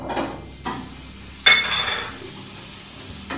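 Mango cubes fry in a pan on a stove at high flame, giving a low sizzle broken by a few sharp stirring scrapes and one bright metallic clink, close and fairly loud with no talking.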